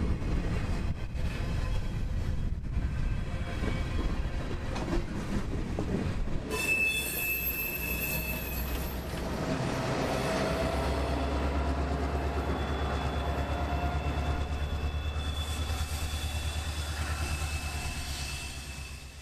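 A reversing freight train grinds along the rails near Lakeland with steady rumbling and clanking, then its wheels let out a long, piercing metallic squeal that holds for several seconds before another high shriek joins toward the end.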